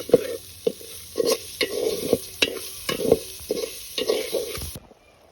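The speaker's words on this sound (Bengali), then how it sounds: "এভাবে আস্তে আস্তে কষাবেন কষানোর কালারটা পরিবর্তন হবে দেখতে পাবেন আপনারা" Spices for a taro leaf curry being fried and stirred in a pan, with a steady sizzle and a regular series of scraping stirs close by, then silence at the end.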